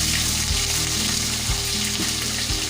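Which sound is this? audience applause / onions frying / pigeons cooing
onions frying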